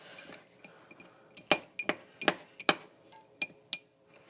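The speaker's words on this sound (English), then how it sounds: "so they just came out of the microwave, and now I'm going to stir them." A spoon or spatula clinks against a bowl while stirring microwaved chocolate for Valentine's Day bark, giving a series of sharp, close scraping taps at an uneven rhythm with quiet pauses between them.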